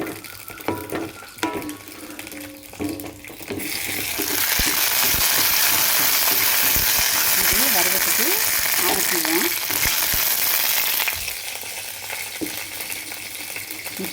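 Green banana leaf halwa being stirred in a pan, a steady loud sizzling and scraping swell in the middle with quieter stirring before and after, no one talking.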